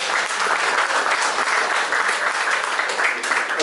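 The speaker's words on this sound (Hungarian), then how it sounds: "egy nagy tapsot Batári Istvánnak!" Audience at a café evening event claps in a dense, sustained round of applause, loud and close, with no break.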